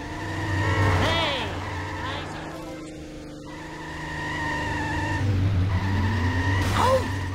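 A car in The Simpsons Hit & Run video game accelerates with a steady engine drone, and its tires squeal sharply in two loud skids, one early and one near the end.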